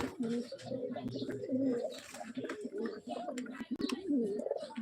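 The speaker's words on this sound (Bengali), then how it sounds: "আমাদের যা কবুতর তার নাম হলো মিস্টার সঞ্জু" Pet pigeons coo close by in soft, repeated throaty rolls that run continuously through the clip, with a faint chirp or two mixed in.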